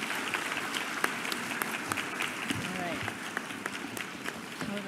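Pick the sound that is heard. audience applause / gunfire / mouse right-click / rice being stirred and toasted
audience applause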